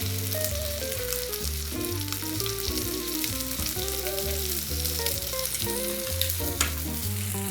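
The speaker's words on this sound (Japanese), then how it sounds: "鴨肉からね美味しい脂が出てますから、少しつけてあげてね、その油で焼いていきましょう。" Japanese negi leeks searing in fat rendered from duck meat in a pan, an even, constant sizzle running beneath steady background music.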